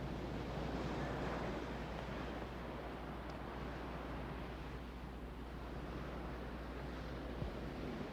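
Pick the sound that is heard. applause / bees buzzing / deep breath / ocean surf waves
ocean surf waves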